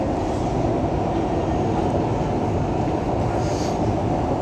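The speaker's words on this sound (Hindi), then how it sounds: "ये ट्रेन जो है डिसमिस हुई है" Dubai Metro train car interior with a steady, loud rumble of running wheels and hum filling the whole stretch, no talking over it.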